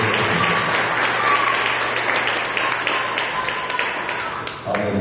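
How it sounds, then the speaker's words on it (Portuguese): A church congregation applauding during a sermon, loud sustained clapping from many hands with some louder individual claps, tapering off toward the end where a voice begins. "E eu volto o microfone para o homem da igreja com as palmas para o Senhor Jesus"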